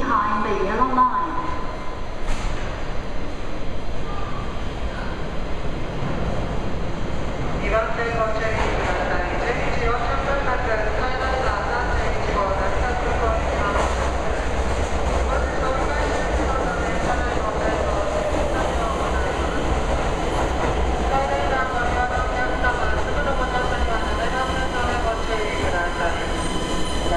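A Keisei Skyliner train pulling into Ueno Station in Tokyo, with a continuous loud rumble, wheel screech and squeal as it slows at the platform, under a station announcement.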